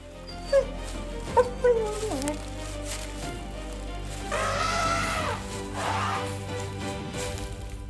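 Wild dogs whimper and yip in short bursts while confronting a herd of elephants, followed by higher whining calls, all fairly quiet over a low background rumble.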